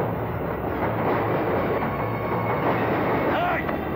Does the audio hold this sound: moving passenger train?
yes